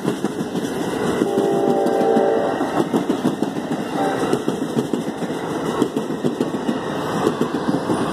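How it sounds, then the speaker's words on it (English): Amtrak passenger train 4610 rolls through a grade crossing in Effingham, Illinois, with a continuous loud rumble and the clatter of wheels on the rails, heard up close and steady the whole time. "Amtrak passenger train 4610."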